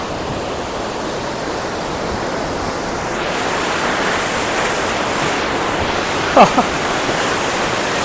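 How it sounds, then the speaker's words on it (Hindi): A mountain river in a valley on a trek rushes with a constant roaring broadband wash, loud and steady from nearby, with a brief faint knock near the end. "ये है वो नदी जो हमें पार करनी है"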